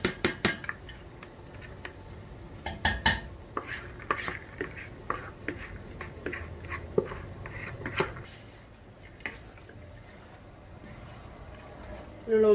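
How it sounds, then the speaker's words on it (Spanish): Knife chopping vegetables finely on a board for Guatemalan chiles rellenos, a run of quick close taps and knocks in the first half, easing off later, with someone talking over it. "Miren, así lo picamos, entonces tenemos que picar bien pequeñito"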